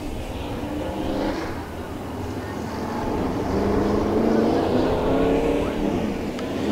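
Race cars roar onto the track at Bakersfield Speedway for a heat race, a steady, loud, fairly distant engine drone rising and falling in pitch, with an announcer talking over it.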